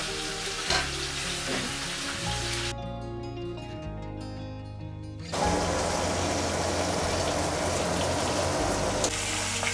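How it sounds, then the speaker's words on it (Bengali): A fish head frying in hot mustard oil, giving a loud continuous sizzle and crackle that briefly drops away, then returns just as strong. "তারপর সর্ষের তেলে মাছের মাথাটা, সর্ষের তেলটা গরম হওয়া পর্যন্ত অপেক্ষা করতে হবে"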